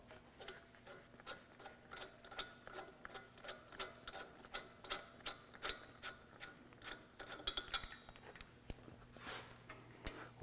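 An adjustable wrench loosens a hose fitting on the nitrogen bottle of a Danuser Hornet post driver, giving faint, evenly spaced metallic clicks and scrapes in quiet surroundings.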